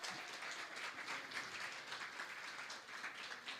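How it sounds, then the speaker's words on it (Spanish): A congregation applauds during a church service, a dense spread of clapping that stays fairly faint and steady throughout. "Dele un aplauso al Señor."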